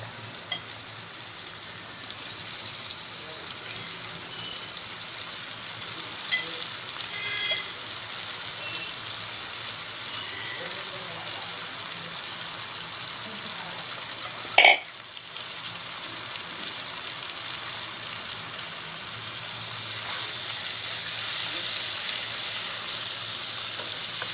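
Raw prawns sizzle in a pan for a prawn curry, a steady low hiss that runs unbroken under a single sharp clack midway, with no voices.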